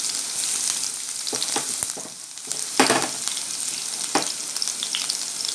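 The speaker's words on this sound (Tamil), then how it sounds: "பூண்டு கொஞ்சம் வதங்கட்டும்." Crushed garlic sizzles steadily in a hot pan for chow chow sambar, with a bright continuous fry and occasional stirring scrapes and pops, close up and without talk.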